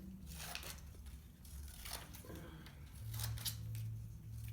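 Scissors snipping zigzag cuts into the bottom edge of a paper jellyfish craft, a series of quiet, close crisp snips with soft rustling of paper between cuts.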